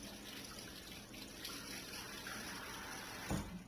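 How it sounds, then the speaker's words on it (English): Tap water runs softly and steadily into a kitchen sink while hands are rinsed during meatloaf preparation, a faint continuous splash with a brief louder gush near the end. "Go ahead and rinse my hands."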